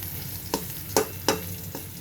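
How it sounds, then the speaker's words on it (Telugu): Garlic paste frying in a pan, a steady low sizzle with a few sharp scraping stirs spaced through the two seconds, no voices. "కొద్దిగా వెల్లిపాయ పేస్ట్ వేగనివ్వాలి"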